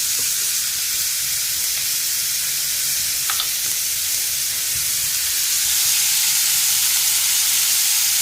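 Onions frying in a pan with coarse rock salt, a constant bright hiss of sizzling oil with an occasional faint tap of stirring, close and steady over the whole stretch with no talking.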